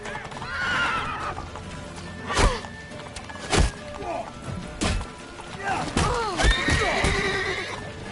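Loud horse whinnies and neighs from The Witcher 3: Wild Hunt Complete Edition on PS5, mixed with clip-clop hoofbeats and several heavy thumping impacts during frantic in-game action.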